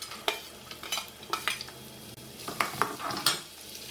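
Sliced onions and chopped carrots sauté in a pan for chicken upma, with a soft sizzle under repeated close scraping and clanking of a spoon against the pan in uneven bursts, no talking.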